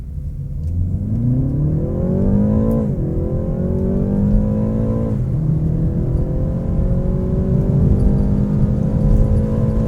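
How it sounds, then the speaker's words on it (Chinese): A 2023 BMW 330i M Sport four-cylinder accelerating hard in Sport Plus mode, its engine rising in pitch through the gears with two distinct shift drops, loud and sustained from inside the cabin. "这个4气缸的330i， 它的引擎声浪不会输给6气缸的 M340i 菜。"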